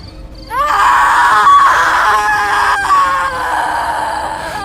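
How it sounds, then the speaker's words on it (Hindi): A creature screams in a horror story sound effect, a loud, sustained wailing shriek with wavering pitch that rises suddenly and holds for several seconds before tailing off slightly. "छलावा ने चीख मारी"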